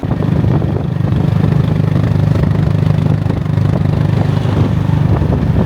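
A motor tricycle engine idles close by with a steady, rattling low chug, continuous and fairly loud.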